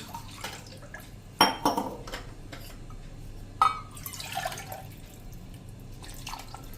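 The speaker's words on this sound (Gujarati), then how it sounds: "અને 1 કપ આપણે પાણી લઈ લેશું।" One cup of water poured into a mixer jar holding gram flour and curd for khandvi batter: a soft liquid splash and trickle with two sharper clinks against the jar, moderately close, no talking.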